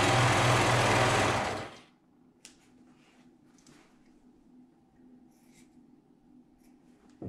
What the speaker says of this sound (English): So now I will take the other piece and sew it on the other side.